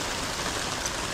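Heavy rain pours down steadily during a storm, a dense, loud, unbroken hiss of drops with no voices.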